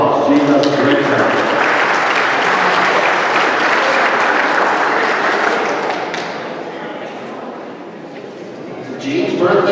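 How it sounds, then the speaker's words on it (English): An audience at an outdoor church ice cream social applauds a local singer who performs in church and at nursing homes. The warm, loud clapping runs for several seconds, eases off, then a few voices come in near the end. "Let's give Gene Beckman a round of applause."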